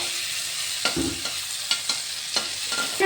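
Mustard and green chili paste frying with potatoes in a pan, a steady close sizzle broken by several sharp clacks of a spatula stirring against the pan.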